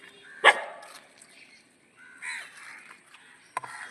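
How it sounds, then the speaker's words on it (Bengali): Crows cawing while feeding alongside pigeons on scattered food, a few sharp caws spaced across the moment with faint background sounds between them. "এই তো কাকগুলো খাচ্ছে"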